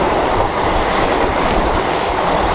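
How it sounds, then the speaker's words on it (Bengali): Orange Puri Vande Bharat Express passing at high speed alongside a Howrah–Kharagpur local train at Panskura Junction station; a loud, steady roaring rumble of rolling wagons with faint clickety-clack, continuous and close. "পাঁশকুড়া জংশন স্টেশনে আমাদের খড়গপুর লোকালকে মারাত্মক স্পিডে কিন্তু ওভারটেক করছে পুরী বন্দে ভারত এক্সপ্রেস।"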